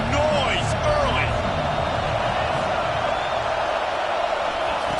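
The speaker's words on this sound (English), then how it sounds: "This crowd bringing the energy and noise early." A stadium crowd in a college football video game, Georgia versus Auburn, roars as a dense, loud wash of noise with scattered whoops and cheers, while a commentator talks over it.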